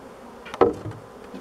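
Bees buzz close to the microphone at an opened hive, a thin droning hum with a brief louder swell partway through, alongside faint handling knocks.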